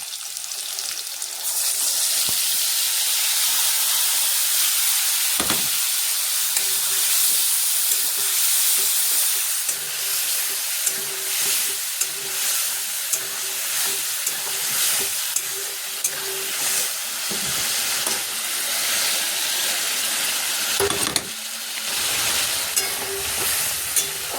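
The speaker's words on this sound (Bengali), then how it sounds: "বড়া ভেজে রেখেছি আলুগুলো একটু লাল লাল এবার মশলাটা দিয়ে দেবো" Potatoes fried until reddish in a pan, then tossed with spice masala, sizzling and hissing steadily throughout with scattered scrapes and knocks of stirring, close and loud, with no talk.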